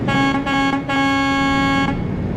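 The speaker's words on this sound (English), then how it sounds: "We'll give him a quick honk on the air horn" A truck's air horn honks in Euro Truck Simulator 2: one loud, steady, brassy blast lasting about two seconds, close and clear over a low engine rumble.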